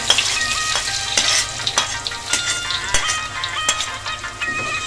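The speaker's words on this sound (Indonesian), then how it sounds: "Setelah minyak goreng panas, kita masukkan bawang putihnya ya teman-teman." Garlic frying in hot cooking oil in a pan, with a steady loud sizzle and crackle and a few sharper pops and stirring clicks, no talking.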